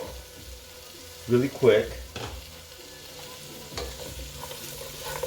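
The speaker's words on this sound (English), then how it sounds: "So want to move everything around. We just want to saute them" Chili and vegetables sauté in a pan with a steady sizzle, broken by a couple of loud stirring scrapes and tosses, and a person speaks briefly over the cooking.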